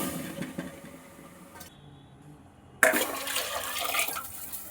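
Water pours into a pot of rice for chicken pulao, a close gushing splash that starts abruptly after a short quiet gap and continues steadily to the end.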